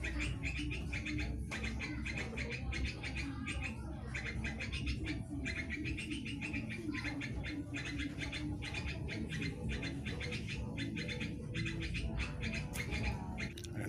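Birds call and chirp repeatedly in an outdoor rural setting while a yellow-vented bulbul is caught in a trap, with soft cooing and busy overlapping calls running continuously and no talking.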